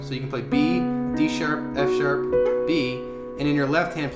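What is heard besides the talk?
No distinct noise like a dog, phone or traffic.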